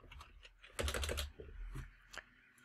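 Keys on a computer keyboard are typed in a few short bursts of clicky taps, quiet and close, with a brief pause between groups.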